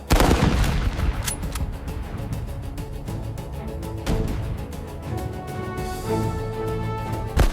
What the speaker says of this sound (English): Disciplined volleys tore through the attackers.